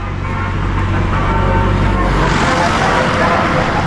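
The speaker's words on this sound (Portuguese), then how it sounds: "Caminhão de gás passando." A gas delivery truck rolls by on a muddy street in flood-damaged Muçum, Rio Grande do Sul, its low engine rumble and road noise loud and close, holding steady for a few seconds.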